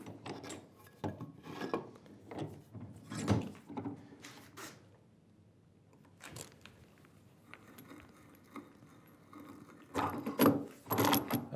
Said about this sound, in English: We'll just bore until that snail comes through again.